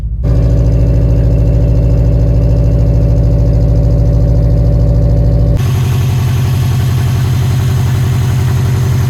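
Subaru EJ255 flat-four engine idling just after start-up, a loud steady low rumble with an even pulsing beat that drops to a slightly lower, smoother idle partway through, no voices.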